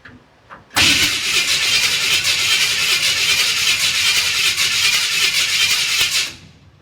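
A 1955 Chevy truck engine catches after a short crank and runs roughly at a steady, loud, close roar for several seconds, then cuts out and falls quiet.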